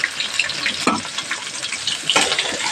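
Tap water runs steadily over cut pabda fish being washed in a kitchen, a continuous splashing hiss with brief louder surges as the fish is handled.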